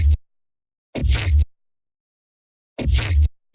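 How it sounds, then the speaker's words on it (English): Glitch effects in an electronic music drop: two short, loud, bursty stutters with deep low-end weight and bright crackle, separated by dead silence. "And then I have these glitches over here."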